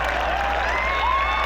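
A golf gallery at the 2015 LOTTE Championship reacts to a putt with a brief, fairly distant murmur and swell of cheering and applause over steady crowd ambience.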